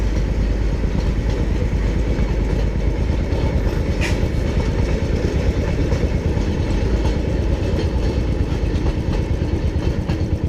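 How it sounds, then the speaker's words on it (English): The Matheran narrow-gauge mini train passes close by with a loud, steady rolling rumble and rhythmic wheel clatter throughout, with no pauses. "It is a narrow gauge train"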